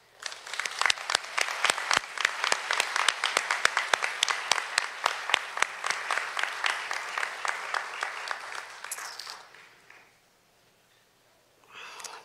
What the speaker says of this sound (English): I want us to take this moment to applaud those who have supported us throughout this journey.